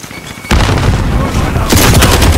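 A grenade detonates in a Call of Duty: Modern Warfare Hardpoint match, a sudden loud boom followed by sustained rumbling and a second burst of blast noise, close and dense with no talk over it.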